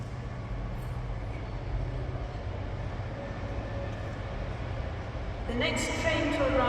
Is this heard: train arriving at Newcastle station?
yes